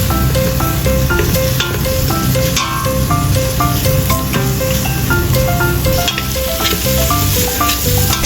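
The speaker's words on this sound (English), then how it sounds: "Stir-fry mushroom until fragrant, then add in bean curd knots." Mushrooms sizzle in a hot wok while being stir-fried for a plant-based broth, a steady close crackle with light stirring running throughout over background music, and no voices.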